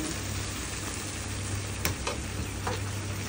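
Spiny gourd (kakrol) frying in a wok gives a loud, continuous sizzle, close by, with a few brief scrapes from stirring; nobody speaks.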